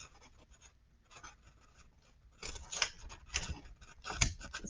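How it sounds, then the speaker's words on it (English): Scissors cutting tabs into paper for a paper roller coaster model, soft snipping and rustling that grows louder and busier midway, with a few crisp cuts close by. "I am going to cut where the tabs or attachment points are going to be."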